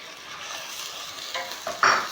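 Roughly chopped onions frying in hot oil for a moong dal tempering, a steady soft sizzle with a few louder crackles and stirring scrapes near the end.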